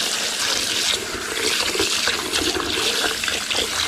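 Water pours steadily into a bowl of sticky rice for a Thai mango dessert, a continuous close splashing rush lasting several seconds.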